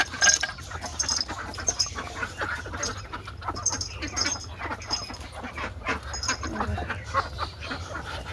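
Ducks just let out of their coop quack and squabble in a noisy flock close by, busy overlapping calls with scuffling movement throughout.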